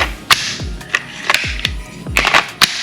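The magazine drops free from a SIG P320 RXP X Compact pistol, heard as a handful of sharp, close metallic clicks and clacks spaced irregularly across a few seconds.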